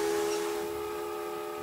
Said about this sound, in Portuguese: O apito liberará vapor até que não haja mais nada, fazendo-se escutar a quilômetros